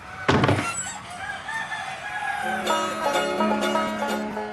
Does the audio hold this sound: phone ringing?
no